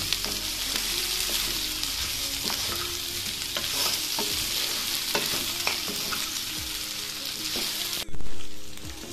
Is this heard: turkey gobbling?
no